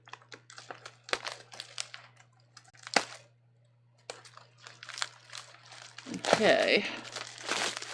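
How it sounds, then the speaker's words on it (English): Snipping open a crinkly plastic package holding a Christian Dior rib knit fabric, heard as close crinkling and rustling bursts mixed with light clicks, growing loudest near the end, with a person speaking briefly in between. "now let's go back to this. This is what I'm really excited about. All right, so I'm going to snip open this one"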